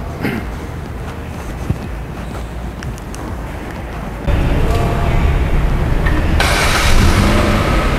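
A Hyundai Stargazer X Prime engine started remotely with the key fob, a steady low idle outdoors that jumps to a louder, fuller rumble midway as the engine catches and runs on, with wind noise and no talk.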